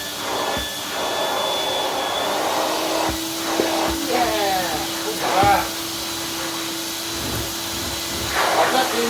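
A 1990s Vax Rapide 5150 vacuum cleaner running at half power, a steady loud whooshing drone with whistling tones and bumps as it is pushed, with a voice talking over it.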